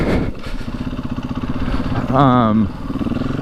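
A Husqvarna 501 FE dirt bike idling and blipping as the rider turns around, a close, lumpy single-cylinder chug with a quick rev rising mid-way before settling back, while someone talks over it.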